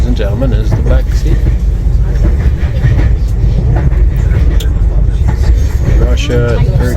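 Swiss-built passenger train running from Tbilisi to Batumi, Georgia, heard from inside as a loud, continuous low rumble with rhythmic rattling, while people talk over it.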